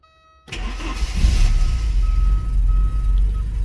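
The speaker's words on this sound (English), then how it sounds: "So this is a cold start video for the 1986 Porsche" A 1986 Porsche 944 Turbo cold start: brief silence, then the starter catches and the engine settles into a steady, smooth idle close by, with a faint thin tone over it.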